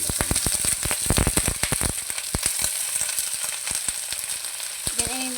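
Garlic, eggplant and leftover shrimp heads sautéing in a pan, a dense steady sizzle close by, punctuated early on by a rapid run of sharp crackles and pops that thin out later, no talking.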